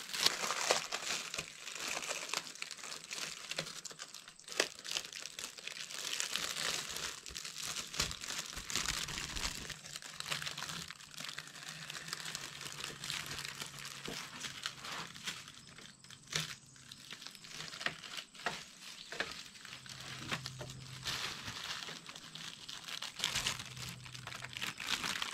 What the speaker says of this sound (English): we're gonna go ahead and peel this now while it is slightly wet